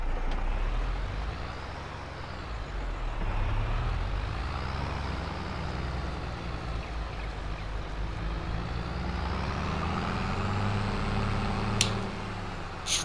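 Old diesel tractor engine idling and running steadily in Farming Simulator 22, a continuous rough, droning rumble held at one close, even level with no talking.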